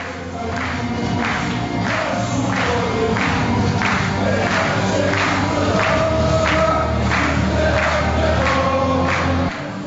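Crowd of political supporters at a Croatian presidential election campaign event singing a fans' anthem together, a dense steady mass of voices with rhythmic swells, loud and continuous throughout.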